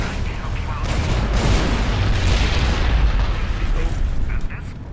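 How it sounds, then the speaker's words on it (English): A rumbling explosion in the video game Fallout: New Vegas bursts and rolls on for several seconds, loud and close, with some talking. "a small explosion."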